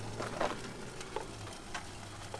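A Subaru STI engine bay fizzes and sizzles softly after a fire, a faint continuous crackle close by with small pops and a low background hum.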